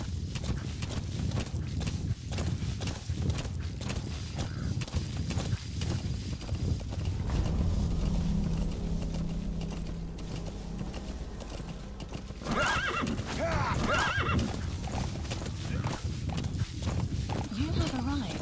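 D-Horse from the video game Metal Gear Solid V galloping with rapid, steady hoofbeats and whinnying, loud and close, with a spoken line partway through.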